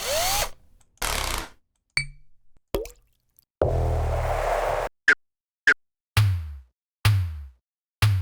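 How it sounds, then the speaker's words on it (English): A series of short, separate mechanical bursts and whirs, several brief power drill spins with silence between them, close and fairly loud. "I have a drill that I recorded."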